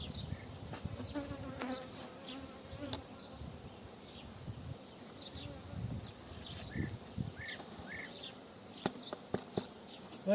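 Honeybees swarm around an open beehive in a steady, dense buzzing drone, with individual bees darting close past and some faint background movement throughout.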